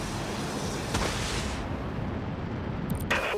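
Artillery in a video game firing on enemy missiles, a dense roaring barrage of blasts with a heavy low rumble, a sharp crack about a second in and brighter bursts near the end.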